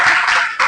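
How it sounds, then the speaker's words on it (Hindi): A class of students claps together in a classroom, a brief burst of dense, bright applause from many hands close by, with no talk over it. "ताली बजाओ"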